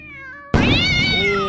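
A black cat in the video game Nine Witches: Family Disruption gives a loud, close meow that breaks into a harsh, drawn-out yowl lasting about a second.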